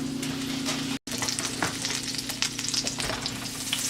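A whole stick of butter melts and sizzles in a cast iron pan, giving a steady, close, crackling fry with a brief dropout near the start.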